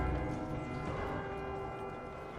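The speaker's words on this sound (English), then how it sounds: "Bang bells." Bells ring in a video game puzzle, a steady sustained tone with layered ringing harmonics, moderately loud and continuous with no talk over it.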